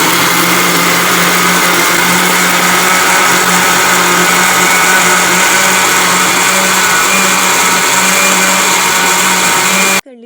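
A blender whirs steadily at high speed for about ten seconds, mixing a strawberry drink with mint leaves and water, a loud continuous motor drone that cuts off at the end.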